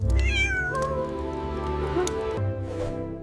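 A cartoon cat in an animated Puss in Boots fairy tale lets out a loud, drawn-out meow that bends downward, followed by a shorter second mew, set against a music bed.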